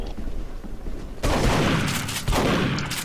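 Shotgun blasts in Duke Nukem Forever multiplayer, in shotguns-only domination matches on maps such as Morningwood and Casino: after a quiet stretch, a loud burst of gunfire erupts, then a second heavy blast follows about a second later.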